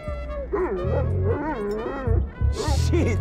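Dog Chop in the game GTA 5 yips, whimpers and barks in rapid excited bursts, close and loud, with a voice talking over parts of it.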